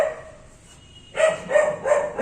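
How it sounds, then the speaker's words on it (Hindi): A dog barks in three loud bursts close by, each sharp cry spaced about half a second apart after a quiet stretch. "एक कुत्ता भी भौंक रहा है"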